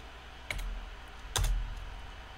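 Two separate keystrokes on a computer keyboard at a Linux terminal, each a crisp close click with a soft thump, spaced about a second apart over low background hum, with no voices.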